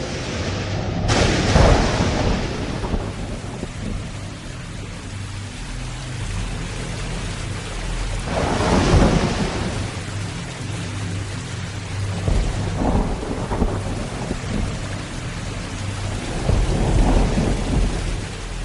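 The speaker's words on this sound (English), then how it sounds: "There's been a tumultuous rain, and it has flooded the whole area." Heavy rain pours without letup while several loud rolls of thunder boom and fade at intervals, with no voices heard.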